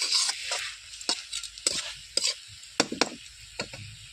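Red amaranth stems being stirred in a pan, a run of scraping, rustling strokes with soft sizzle underneath, close and fairly quiet, each stroke a short burst.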